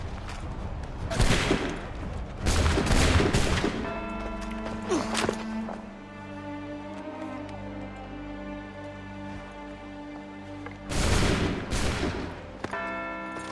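Musket volleys fire in the video game Assassin's Creed 3 Remastered, set in Boston: loud crackling bursts of massed shots at the start, then ringing tones, then another sharp volley near the end.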